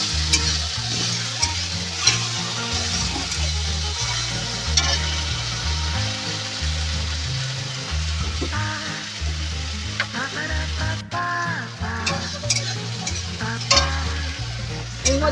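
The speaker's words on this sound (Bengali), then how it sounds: "দিয়ে দেবো চিলি সস। এবার এটাকে ভালো করে কষাবো।" Chilli sauce stirred into a pan for crispy street-style chilli potato, giving loud, continuous frying and sizzling with steady stirring and scraping up close, and a low background hum underneath.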